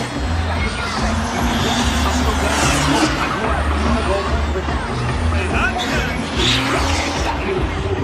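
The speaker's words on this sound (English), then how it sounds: "Colt Stevens is sending this truck" Monster truck engine roaring loudly and continuously inside a stadium during a Monster Jam stadium tour run, a steady heavy rumble with crowd and arena noise layered over it.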